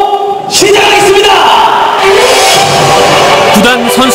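Fans at the 2019 Jeonnam Dragons football club send-off ceremony and fan day clap and cheer loudly, a dense crowd roar with shouts and whoops rising throughout, music sounding beneath.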